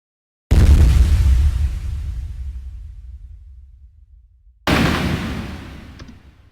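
Two heavy booming blasts of 50 caliber gunfire and explosion sound effects, each a sudden deep impact followed by a long rumbling decay, the second a few seconds after the first.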